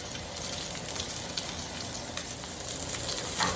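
A steak sears in a pan with a steady, fairly quiet sizzling crackle that holds throughout, with a few sharper pops near the end.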